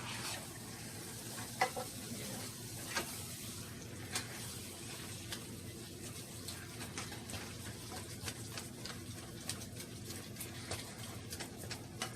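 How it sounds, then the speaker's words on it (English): Ground beef browns in a pan with a steady soft sizzle and crackle, broken by scattered clicks and scrapes of a utensil stirring and chopping the meat, with no talking. "Browning this meat."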